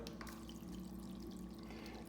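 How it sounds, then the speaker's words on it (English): Water pours from a tap into a ramen noodle bowl, a faint steady running splash lasting a couple of seconds with no talking. "And then I'm gonna add water to the line."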